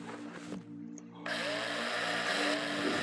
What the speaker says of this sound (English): This drill hasn't got a whole lot of use left